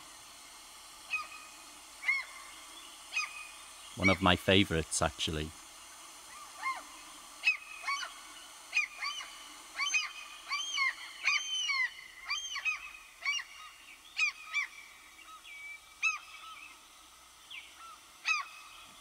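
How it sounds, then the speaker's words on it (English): Gull calls, a burst of loud honking squawks close by, then scattered shorter cries at varying distances over a quiet background. A voice speaks briefly. "It's the seagull,"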